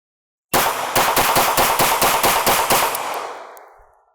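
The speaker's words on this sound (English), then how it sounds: "I'm just going to dump the mag" A .22 LR gun empties a full magazine in a fast, even string of about a dozen sharp, close shots over two and a half seconds, followed by a fading echo.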